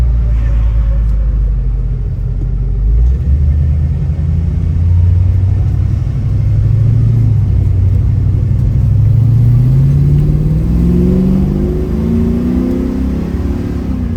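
A 1971 Chevrolet Nova LS engine rumbles steadily as the car drives, its low drone rising and revving throughout, close and loud with no talking.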